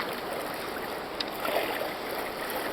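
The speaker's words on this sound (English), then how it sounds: "I'm in the river." Knee-deep river water in Linville Gorge swirling and sloshing around a wading hiker, a continuous close rush with small splashes and no talk.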